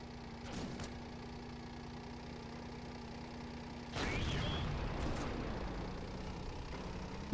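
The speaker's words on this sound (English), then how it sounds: "There is a mod for the engine sound effect." A modded engine sound effect in a video game battle grumbles and idles low beneath sharp bursts of gunfire-like cracks, getting louder after a heavy blast partway through, with no talk.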